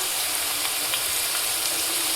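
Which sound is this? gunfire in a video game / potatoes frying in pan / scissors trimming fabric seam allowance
potatoes frying in pan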